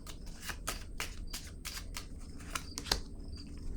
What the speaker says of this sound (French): je vais piger une autre carte sur la sagesse pour le signe du Capricorne